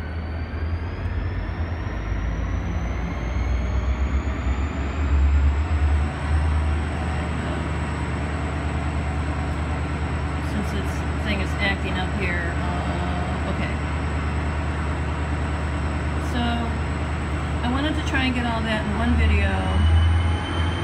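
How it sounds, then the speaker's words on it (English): A train rumbles past nearby, loud and continuous, with a low heavy drone, a high whining tone and brief metallic wheel squeals. "Noisy all of a sudden. There's a train."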